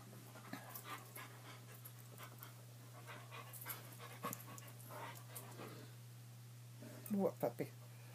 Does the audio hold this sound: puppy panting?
yes